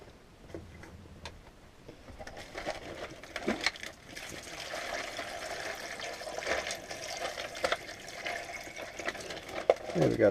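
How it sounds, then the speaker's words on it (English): Water pours into a cooler packed with a sack of ice, a faint irregular trickle and splash with small clinking ticks that grows gradually fuller and louder as it fills. "Let me get some water here."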